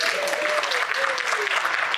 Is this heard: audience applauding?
yes